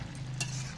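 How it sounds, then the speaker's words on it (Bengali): A spoon stirs bottle gourd and small fish curry in a pan, giving a faint, brief scrape over a low simmering sizzle. "মাঝে মাঝে একটু নেড়ে চেড়ে দিচ্ছি।"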